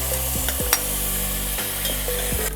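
Two cups of soaked rice are stirred into browned onions for a pulao, with a steady frying sizzle broken by repeated scraping strokes of a spoon against the pan.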